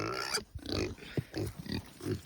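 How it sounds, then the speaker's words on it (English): Pigs on an off-grid homestead grunting and oinking up close in a series of short irregular snorts, fairly faint, with some outdoor background noise. "Pigs don't mind if they like this."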